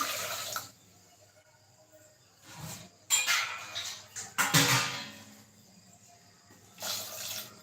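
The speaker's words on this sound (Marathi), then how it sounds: "त्यामध्ये टाकून घेऊया पाणी" Water splashes and pours into a pressure cooker holding four potatoes in several short bursts separated by quiet gaps, close by, with faint clinks between pours.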